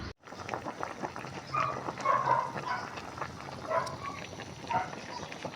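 A dog barks and yips in short scattered bursts in a home kitchen while vegetable soup with Baguio beans and cabbage is being cooked, set against steady background noise.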